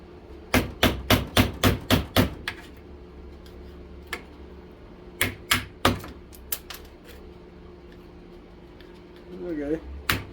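A screwdriver used as a chisel on a starter motor takes a rapid run of sharp metallic hammer strikes, then a pause and a second burst of blows, with someone talking between the hits.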